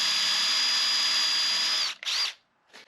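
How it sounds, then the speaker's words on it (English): Cordless power drill boring pilot holes into a camper van during a build, a close, loud steady whine that stops abruptly, then a short burst and a brief final spin. "I'm gonna drill 2 pilot holes and get 2 screws going in"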